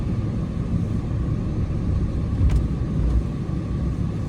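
A pickup truck engine idles steadily as it warms up on an icy day, a low continuous rumble filling the cabin with no talk over it.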